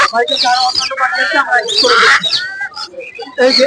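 Loud, busy chorus of macaws squawking and chirping close by, overlapping calls with no pause.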